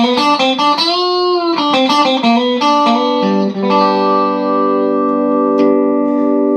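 A bright electric guitar with a single-coil pickup plays a quick run of notes through a Vox VT80 amp, ending on a long sustained chord.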